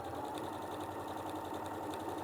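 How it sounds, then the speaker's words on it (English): A sewing machine runs steadily, stitching fabric strips diagonally across calico in a quilt-as-you-go style, with a fast, even mechanical chatter held at constant loudness throughout and no voices. "you're just stitching strips diagonally across your calico"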